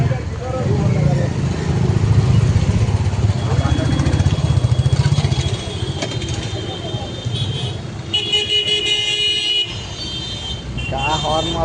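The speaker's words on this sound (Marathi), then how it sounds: "काय हॉर्न मारल्यात रे बाबा." Vehicle horns honk on a busy road amid traffic and engine noise, with a sustained toot sounding clearly near the end, while people talk nearby over the din.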